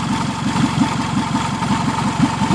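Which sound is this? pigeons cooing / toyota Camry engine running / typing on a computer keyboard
toyota Camry engine running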